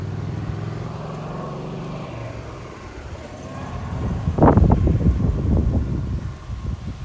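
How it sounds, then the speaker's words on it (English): Wind buffets the microphone in low, rumbling gusts at a lakefront park in Kissimmee, Florida, swelling partway through, loud and close, with a faint engine-like drone beneath. "Oh, it's windy."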